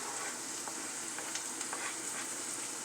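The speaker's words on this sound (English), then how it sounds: "as the onions is sauteing, I will add some diced jalapeno peppers." Onions and diced jalapeno peppers sauté in a pan, a steady close hiss of frying with a few faint scrapes of stirring and no talking.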